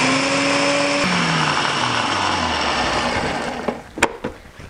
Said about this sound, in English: put my red pepper flakes into my blender